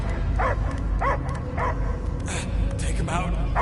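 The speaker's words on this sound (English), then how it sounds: "I hear only barking." Dog barking and yipping in the Guardians of the Galaxy video game, several short barks spaced across the clip amid a dense game soundscape, with a voice speaking over it.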